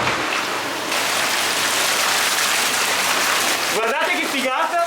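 Whirlpool bathtub jets set to maximum speed churn the water in a steady, loud, continuous rushing wash, with a voice talking over the end.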